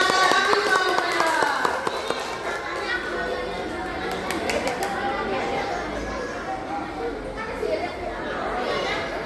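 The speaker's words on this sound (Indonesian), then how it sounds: "Beri aplaus dulu kepada Afifah Humaira." A school audience at an elementary speech contest gives scattered applause for a contestant, with crowd chatter and children's voices mixed in, moderately close.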